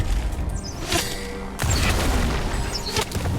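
Skarner landing his Q skill shot in League of Legends, a booming impact followed by another heavy hit amid busy game effects, all loud and close.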